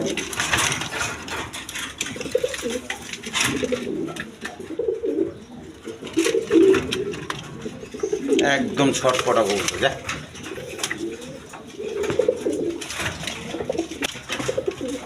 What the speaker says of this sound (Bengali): এখানে একটা নর কবুতর আছে বিউটি জার্মান বিউটি